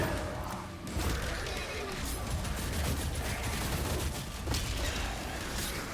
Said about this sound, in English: just going out and shooting stuff, shooting demons like this